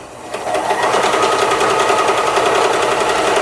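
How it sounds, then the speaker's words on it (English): A sewing machine stitching across grey t-shirt fabric with matching thread, starting after a brief pause and then running as a loud, fast, steady mechanical whir close up, with no voices. "I've got my sewing machine threaded with matching thread, gray thread, and I'm just going to put this here. And I'm just going to sew across."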